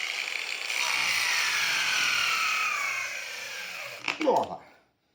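A Yuansen YSJM-A2 cordless angle grinder runs at first speed, a steady high whine that holds for several seconds, then spins down with a brief clatter before falling silent.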